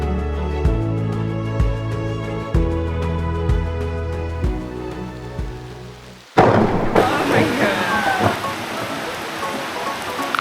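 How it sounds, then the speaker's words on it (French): Heavy tropical rain pours down in Bali near the Tegalalang rice terraces, a loud dense hiss of rain on surfaces that bursts in suddenly halfway through, after a stretch of steady droning sound. "Ça c'est la vraie pluie de Bali."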